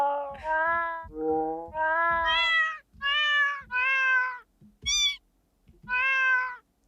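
A cat meows over and over, a string of clear, drawn-out meows of varying pitch with brief gaps between them.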